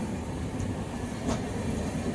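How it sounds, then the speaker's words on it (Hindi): Train rolling into the platform at Prayagraj Junction, a steady low rumble of wheels and carriages with a faint metallic squeal, heard from on board without voices. "ट्रेन प्लेटफॉर्म पर प्रवेश कर रही है"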